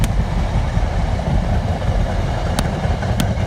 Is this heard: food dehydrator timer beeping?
no